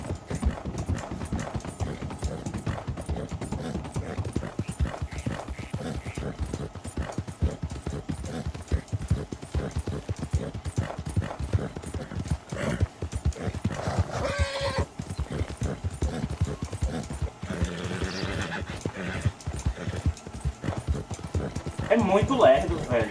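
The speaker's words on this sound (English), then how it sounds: "Tá estranho, velho, o cavalo. Não tá correndo como antes." Horse hooves clip-clopping at a fast gallop in the video game Red Dead Redemption 2, a continuous dense rhythm with game sounds around it and someone talking over it.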